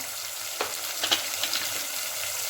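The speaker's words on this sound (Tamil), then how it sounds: "வெங்காயம் நல்லா வதங்கணும்." Onions sautéing in a pan for spicy garlic kuzhambu, an even low sizzle with a few soft spatula scrapes and taps, no voices.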